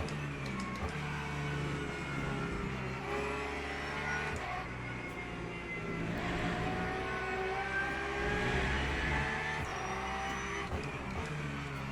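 A BMW race car accelerates hard down a straight, its engine note close and sustained as it climbs through gears, with a few shifts and rising tones across the run.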